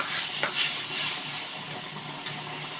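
Spice masala for a tangra fish curry sizzles and bubbles in a pan after water is added, a steady close hiss with scraping stirs of a spatula and occasional sharper crackles.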